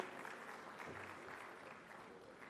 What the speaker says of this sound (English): Request you all to please give a big round of applause here.